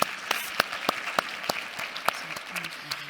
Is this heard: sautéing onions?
no